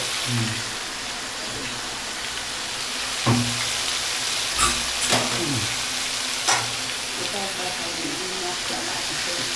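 Washed Gobindobhog rice with masoor and moong lentils sizzles loudly in a hot kadai, a constant close frying hiss with a few stirring knocks and scrapes.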